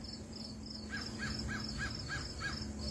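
Pet crow cawing in a steady series of about six evenly spaced, moderately loud calls over a low constant background hum, with no talking.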